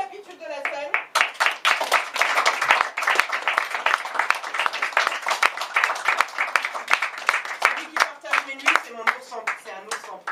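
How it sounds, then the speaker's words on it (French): An audience at a live stage show bursts into sustained, dense clapping and applause, with a voice speaking over it near the start and end. "Je vous demande un tonnerre d'applaudissements"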